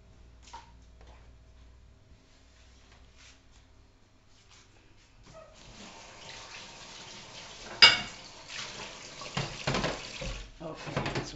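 A home cook washes cabbage under a running kitchen tap for a Hungarian layered potato dish. A quiet start gives way to splashing water and clattering in the sink, with soft voices in the background.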